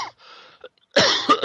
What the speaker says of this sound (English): I'm so sorry because I have a cough